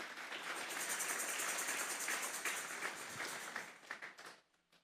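A church congregation applauds at a sermon, a soft, fairly distant spread of clapping that thins into scattered claps and fades to silence before a sharp tap at the very end.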